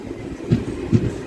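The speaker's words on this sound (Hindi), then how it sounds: "ये ट्रेन आ चुकी है वनापर्ती रोड रेलवे स्टेशन।" A DEMU train arriving at Wanaparthy Road railway station, a low rolling rumble broken by two distinct wheel clunks over rail joints, fairly close.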